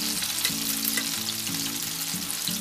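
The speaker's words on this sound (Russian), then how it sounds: "Хорошо, пускай жарится дальше." Pork or meat chops sizzling and spitting in a hot pan in a REDMOND multicooker, a loud constant frying hiss with a low humming tone underneath and no talking.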